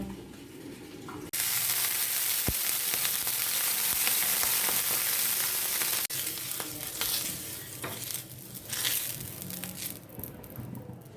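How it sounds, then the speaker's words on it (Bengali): Semolina dosa batter sizzles in a little oil on a hot pan, a loud steady crackle after a brief quieter start, with a few clinks and a shift in texture midway; no voices. "আর ভেজে দেখাচ্ছি। প্রথমে অল্প করে তেল দিলাম।"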